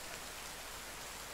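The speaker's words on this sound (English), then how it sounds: "this rain is loud!" Loud, steady rain from the video game The Forest, a dense hiss of downpour filling the whole moment with no voices.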